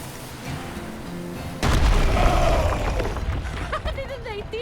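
A cannon fires in the video game En Garde!, one sudden loud boom that rolls into a long rumbling decay. A faint music bed plays before it, and bright tonal chirps follow as the boom fades.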